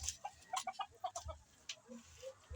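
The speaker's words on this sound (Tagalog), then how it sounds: "ito nga pala yung ating pangati ng manok" A breeding gamecock rooster clucking nearby, a quick series of short, rhythmic clucks in bursts followed by a few softer calls, fairly faint and alone.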